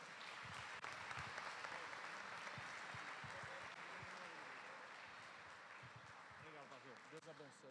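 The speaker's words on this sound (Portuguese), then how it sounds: "Dá uma salva de palmas para o Senhor." Church congregation clapping throughout a Sunday worship service, a dense, steady wash of applause filling the room, with voices heard faintly underneath.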